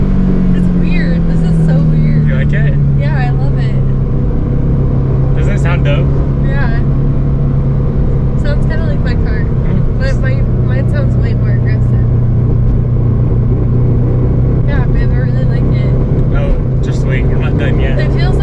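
A car engine runs continuously while driving, with a droning tone that drops in pitch early on and steady road rumble, heard from inside the cabin under frequent talk from people in the car.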